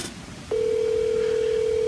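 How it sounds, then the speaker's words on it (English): Outgoing phone call to a mobile: a short burst of dialing noise, then a steady, loud single-pitch ring tone that holds unbroken to the end, with no voices. "Calling Terry Hunter mobile."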